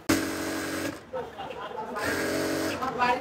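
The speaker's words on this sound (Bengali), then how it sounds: "মার্জিন বরাবর সেলাই করে নেব।" A sewing machine runs in two sustained bursts, stitching along the seam margin of a kameez, with a brief pause between runs and nearby motor whir.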